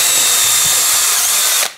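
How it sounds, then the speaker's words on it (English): A power drill boring a hole in a piece of wood, a loud, steady high whine at close range that cuts off abruptly near the end. "drill a hole"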